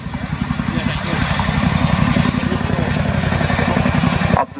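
An RAF Chinook twin-rotor helicopter hovers close by, its heavy rhythmic blade thump and engine drone loud and steady before cutting off abruptly near the end; a voice talks faintly underneath.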